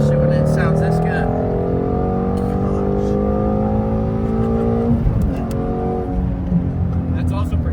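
A 2017 Shelby GT350 engine revs up and down in rising and falling sweeps, loud and close, with a few crackles from the exhaust and voices faintly present underneath.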